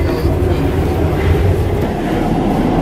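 A Paris metro train rides along the rails with a loud, steady rumble and rattling clatter, heard from inside the car with no one talking.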